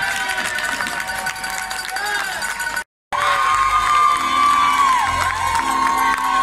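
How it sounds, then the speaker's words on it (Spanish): A loud crowd cheers, whoops and shouts at the Arretrankos carnival race in Puerto del Rosario, a dense roar with children's shrill voices, breaking off briefly in the middle before resuming. "aplauso para él."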